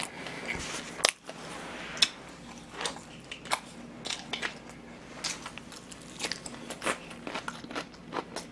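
Crispy fried chicken being bitten and chewed up close during a Korean mukbang eating show, with repeated crunchy bites and crackles spread across the clip, some sharp and loud, with no talking.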